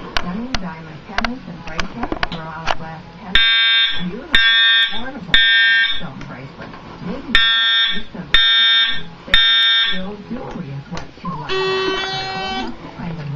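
An Edwards 270 ASPO fire alarm horn on a test panel with its strobe unconnected blares in loud repeated bursts separated by short gaps, following a stretch of talking.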